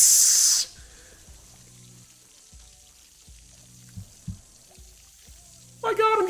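Water sprays from a broken sink in a video game, a loud hiss that cuts off abruptly, then quiet game music with soft thuds, before another burst of water noise near the end.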